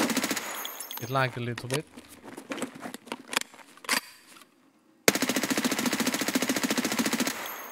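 Automatic weapon fire from the shooter game Escape From Tarkov, a few short bursts and then a long sustained stream of rapid shots, loud and close, with someone speaking briefly early on.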